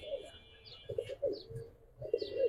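Giribaz high flyer pigeons coo close by in several short throaty bursts, with faint higher chirps over a quiet background.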